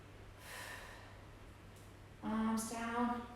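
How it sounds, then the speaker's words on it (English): Two slow, deep breaths during a standing yoga stretch, a soft inhale followed by a louder, rougher exhale, close and alone. "taking some breaths"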